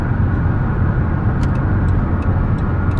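A 2017 Dodge Caravan SE Plus wheelchair minivan cruises down the road, giving a steady, loud broadband rumble of engine and tire noise with no pauses and no voices.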